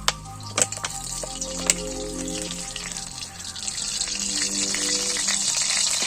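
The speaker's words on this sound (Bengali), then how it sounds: "এবারে কড়াই আমি সরষের তেল দিয়ে দিচ্ছি।" Mustard oil heats in a hot kadai before drumsticks and potatoes go in, a continuous sizzling hiss with a few sharp clinks and knocks of utensils early on, building slightly louder toward the end.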